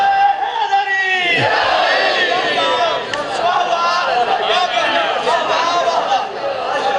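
A crowd at a Muharram majlis in a village near Sargodha shouts religious slogans in loud unison, a leader's voice rising before the massed response swells and continues with overlapping chatter.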